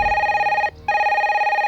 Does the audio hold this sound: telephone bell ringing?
yes